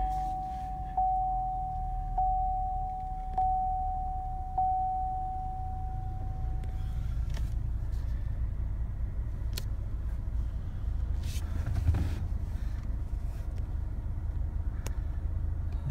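A 2015 Cadillac ATS AWD idles after a remote start, its steady low engine rumble continuous throughout, with a sustained tone over the first several seconds and a few faint clicks.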